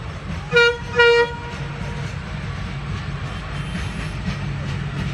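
The 6:30 train from Rajshahi sounds its horn on arrival near Pabna's Tebunia farm, two loud, close, tonal toots in quick succession, followed by a steady rumble of the moving train.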